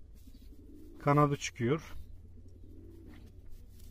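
A young pigeon chick gives a short burst of coos and squeaky calls near the middle, set against a low steady background hum while someone speaks in Turkish.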